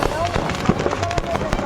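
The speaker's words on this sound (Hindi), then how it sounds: "पटाखों का शोर कई किलोमीटर दूर तक सुनाई पड़ा।" Firecrackers bursting inside a burning truck loaded with fireworks, with rapid overlapping pops and crackles over a steady roar, close and loud, mixed with voices in the background.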